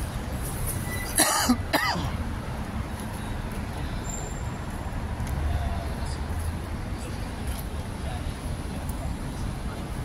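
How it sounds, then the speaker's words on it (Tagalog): A short burst of two harsh coughs near the start, caused by strong chlorine fumes, close by, over steady background traffic noise. "ako inuubo dahil sa gawa ng chlorine, tapang ng chlorine"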